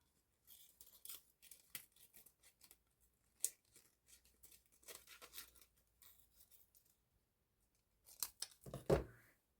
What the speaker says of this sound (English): let's just cut this one